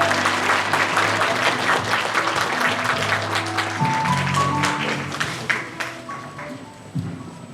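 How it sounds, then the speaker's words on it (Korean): An audience at a book concert and publication celebration applauds, dense clapping that is loud at first and thins toward the end, with scattered claps and a few voices in the background. "큰 박수 부탁드립니다."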